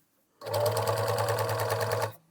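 A Victoria HA-4000DF overlock sewing machine stitches fabric in one steady, rapid mechanical whir lasting under two seconds, close and alone, starting and stopping abruptly.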